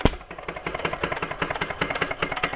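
A 1924 Fairbanks Morse Z hit-and-miss engine runs close by, its steady rapid chuffing firing beats repeating evenly with a bright mechanical clatter over each stroke.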